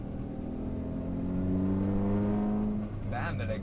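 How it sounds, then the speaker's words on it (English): A Suzuki Zen 1-liter engine drones steadily while the car is driven through a slalom, a loud constant exhaust note that swells slightly midway, with a brief voice near the end. "that exhaust note really sounds good"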